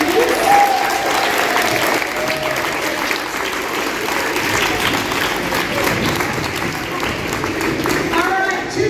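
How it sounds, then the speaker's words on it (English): A quiz bowl audience claps in sustained applause, a full, continuous patter of many hands that holds steady and fairly loud from start to finish. "round of applause"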